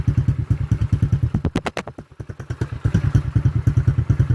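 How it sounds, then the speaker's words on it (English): A pit bike's small single-cylinder engine idles just after a cold start, a close, loud, rapid thumping putter that stumbles and slows briefly mid-way before settling back into an even rhythm. "So as you can see, the pit bike is started."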